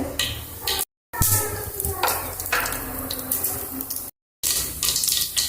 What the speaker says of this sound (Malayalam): ചട്ടി ചൂടായതിലേക്ക് രണ്ട് ടേബിൾ സ്പൂൺ വെളിച്ചെണ്ണ ഒഴിച്ച് കൊടുത്തിട്ടുണ്ട് വെളിച്ചെണ്ണ ചൂടാകുമ്പോൾ കടുക് കൊടുത്തിട്ടുണ്ട്